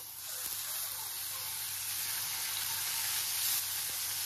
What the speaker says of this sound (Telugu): ఇప్పుడు ఒక్కొక్క చికెన్ పీస్ ని ఇలా పెట్టుకొని ఫ్రై చేసేయడమే.